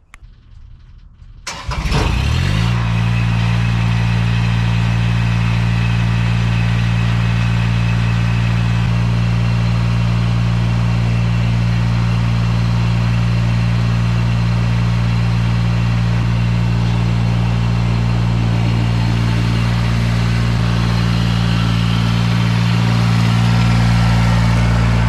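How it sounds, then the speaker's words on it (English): Tractor engine cranking and catching on a garden property, then settling into a steady, loud, close idle with a deep droning hum that runs unbroken to the end. "now we're gonna go get some topsoil with the tractor"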